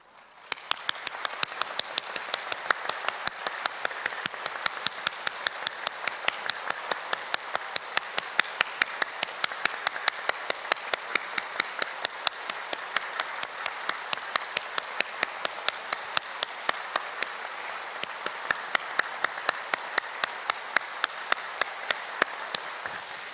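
Congregation at a Sunday church service claps together in a steady, rhythmic beat, sharp regular claps continuing the whole way through with no talk over them.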